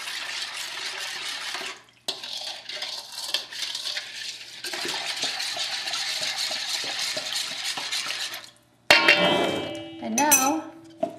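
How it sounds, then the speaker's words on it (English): Bread dough is stirred in a bowl for homemade bread: a steady, fairly close scraping and clacking runs for about eight seconds with a short pause near two seconds, then ends in a louder burst of clatter. "Now I just stir this up a little bit."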